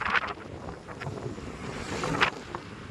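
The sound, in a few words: strong wind while riding motorcycles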